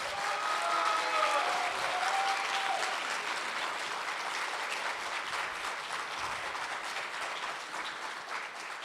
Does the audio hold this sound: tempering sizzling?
no